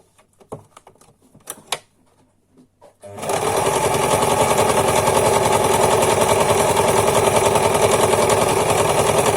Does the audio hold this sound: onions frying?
no